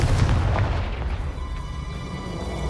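Confringo fire spell blasts in Hogwarts Legacy, a deep booming burst at the start that rumbles on as a dense, loud roar and slowly thins over a few seconds.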